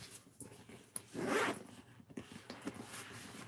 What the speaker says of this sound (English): It has a recessed zipper.